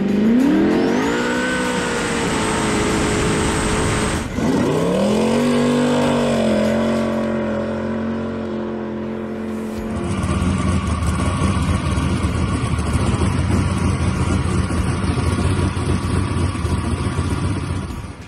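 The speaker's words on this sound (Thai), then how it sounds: "เป็นเครื่องยนต์ V8 มันมีเสียงคำรามที่โคตรจะน่ากลัว" A powerful V8 twin-turbo boat engine roars and revs up hard, dropping and climbing again, then holds a loud steady drone with a high whine on top.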